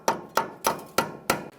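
A hammer strikes a punch on the axle nut of a 2010-2013 Kia Soul 2.0L, five sharp metallic blows in a steady rhythm about a third of a second apart, close and loud.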